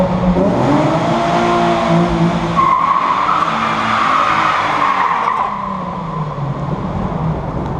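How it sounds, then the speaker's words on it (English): A Nissan 350Z spins donuts while its tires skid, giving a loud, sustained rubber squeal over a revving engine whose pitch rises and falls. The engine note sinks toward the end, and no one speaks. "My girlfriend is about to try drifting. Well, about to try donuts, which is the basis for all drifting."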